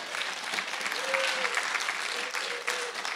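A church congregation applauds the Lord in a dense, sustained burst of clapping with scattered voices and faint shouts mixed in, filling the whole span.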